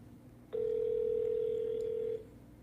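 A telephone tone during an outgoing call sounds as one steady, clear beep of about a second and a half, starting and stopping abruptly over a faint background hum.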